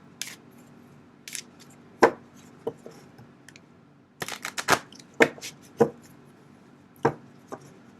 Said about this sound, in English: So now I'm going to pick 3 cards.